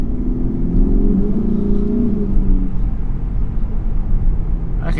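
A car engine in sport plus mode revs loud and close, its rising and falling drone dominating the first few seconds before settling into a steadier rumble.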